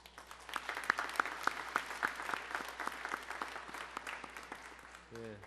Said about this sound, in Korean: 저 뒤에 박수 한번.